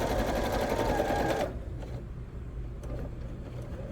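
A sewing machine stitches pajama pant pockets, running in a fast, loud, steady whir for about a second and a half before stopping, followed by quieter handling sounds.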